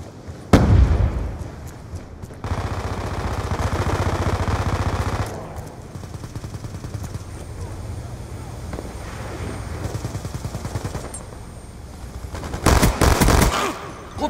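Bursts of automatic gunfire from a Call of Duty Black Ops 2 Team Deathmatch match, with heavy rattling volleys early and near the end and sparser shots in between, mixed with game voices calling out.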